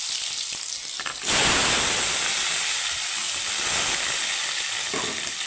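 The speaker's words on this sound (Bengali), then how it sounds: "তো আলুটাকে আমি একটু হালকা ভেজে নেব, তো একটু লাল করে ভেজে নেব আলুটা।" Boiled potatoes dropped into hot oil with whole cumin in a wok, a sudden loud sizzle that bursts in after a quiet start and keeps up a steady hissing fry close by.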